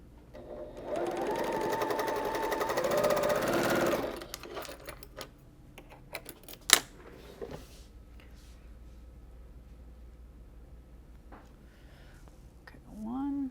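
A sewing machine stitches a Scandinavian Christmas quilt block in a steady whirring run of about three seconds, then stops, leaving scattered small handling clicks and a voice.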